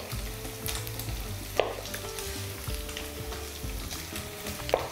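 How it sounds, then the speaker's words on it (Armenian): Pork tenderloin sizzles steadily as it fries in a pan, with periodic scraping and clanks of stirring; close and fairly quiet, with no voices. "Չմոռանանք պարբերաբար խառնել միսը, որպեսզի բոլոր կողմերից կարմրի։"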